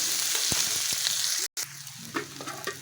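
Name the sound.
onions and green chillies frying in oil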